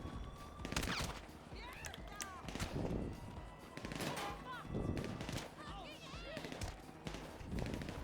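Repeated bursts of gunfire in Grand Theft Auto V Enhanced crack in quick succession, mixed with game sounds and excited voices talking over the action.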